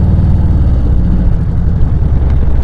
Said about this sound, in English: Make sure you guys are slowing down and downshifting accordingly.